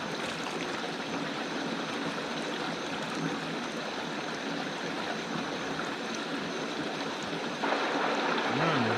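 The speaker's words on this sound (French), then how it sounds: "Une source d'eau potable." Spring of drinking water in the jungle in Guiana, a steady faint trickle and wash of flowing water that grows slightly louder near the end, with a brief murmur of speech.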